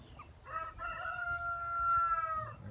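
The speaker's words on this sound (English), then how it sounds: "There's one of the roosters." A rooster crows once at a moderate distance, a long drawn-out call held steady before trailing off, with quiet outdoor background.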